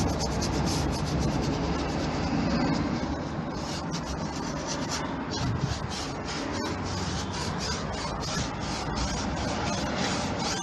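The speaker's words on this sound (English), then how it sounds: "So I've got my PVA mixed up. I'll just brush this on." A brush spreads mixed PVA across a damp house wall, giving a steady, close scratchy rubbing that continues for the whole stretch with no pauses.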